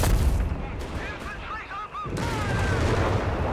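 Vickers machine gun fire in Company of Heroes 3, a dense rattling battle din of gunfire and booms heard continuously under a commentator's voice.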